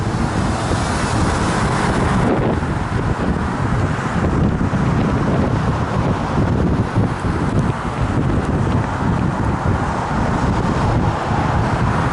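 Steady, loud wind buffeting the microphone while cycling into a headwind on a road ride, a continuous roar with no break and no voices.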